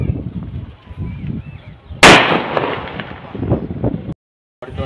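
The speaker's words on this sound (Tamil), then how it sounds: "அன்பாக்சிங் பண்ணதில் பாம்பு வந்து இப்போ வெடிக்கலாம்." A snake firecracker from a Sivakasi combo pack goes off during a test with a sudden sharp burst, followed by a couple of seconds of fizzing crackle, and faint voices can be heard around it.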